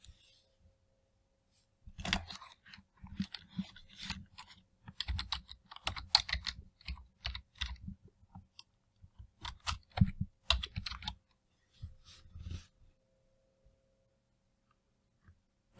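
A project name is typed on a computer keyboard for an Allen Bradley Micro850 controller setup: bursts of quick, close key clicks after a short pause, several runs separated by brief gaps, alone with no talk.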